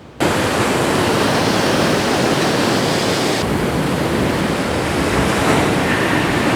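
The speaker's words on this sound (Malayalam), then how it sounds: "തിരമാലകൾ ഇങ്ങനെ അടിച്ചു വരുമ്പോൾ കാണുന്ന ഒരു ഭംഗി അടിപൊളി" Sea waves crash and roll onto Azhikode beach with a loud, continuous roar of surf close by. No one speaks.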